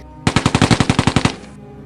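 A rapid burst of about twelve evenly spaced gunshots, loud and close, firing like an automatic weapon for just over a second before stopping.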